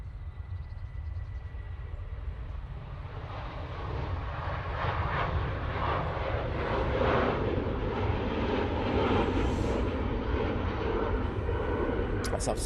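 A KLM Boeing 737 rolls for takeoff at Manchester Airport, a broad jet roar heard at a distance that slowly builds and swells over several seconds.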